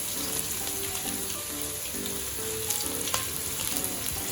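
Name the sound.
shallots frying in hot pan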